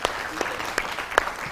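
Studio audience clapping on a televised stroke telethon, a short burst of steady applause with a few sharper claps standing out, fairly close and moderately loud.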